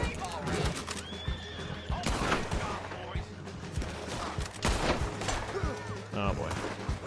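A horse neighs and whinnies in the Red Dead Online video game, with hoof clip-clop and bursts of gunfire around it, loud and busy, as a voice talks over the game sound.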